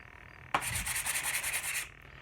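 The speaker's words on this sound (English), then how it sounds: "we are getting this varnish stripped right off" Sandpaper of 120 grit stripping varnish from a wooden tomahawk handle, heard as one steady, close scratchy rubbing stroke that starts abruptly and holds for over a second before stopping.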